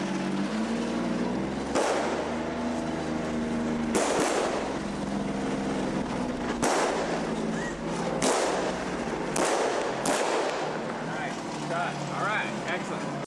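Gunshots ring out during behind-the-scenes filming of a chase scene through a palm grove jungle, several sharp, loud cracks spaced a second or two apart over continuous talk.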